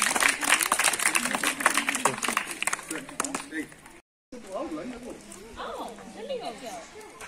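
A gathering at a birthday and pre-Children's Day celebration claps to welcome a guest, a loud burst of many hands that stops abruptly, followed by people talking.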